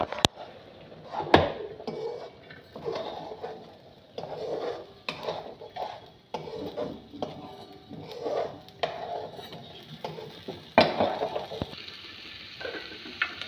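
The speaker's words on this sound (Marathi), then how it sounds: "टोमॅटो भाजलेले आहेत, चांगले डाग पडल्यानंतर आपण त्याला आता कांदा टाकणार आहोत." Onion fries in a pan with roasted green tomatoes, a low sizzle under repeated scraping and stirring strokes, with a few sharp utensil knocks, close and fairly quiet.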